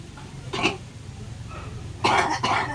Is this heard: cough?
yes